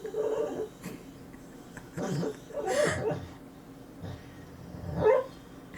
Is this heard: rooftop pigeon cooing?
no